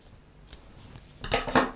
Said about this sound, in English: So I'm going to just snip right here.